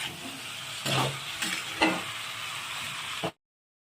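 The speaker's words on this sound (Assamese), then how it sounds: "ইফালে মাংস ভাজি আছোঁ বৰ্তমান এতিয়া" Chicken pieces frying with potatoes in a pan give a steady sizzle, with a few louder scraping stirs breaking through at intervals, close and alone without any voices.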